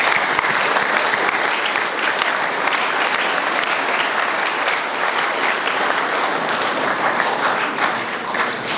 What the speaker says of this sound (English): give Miss Maxwell a big round of applause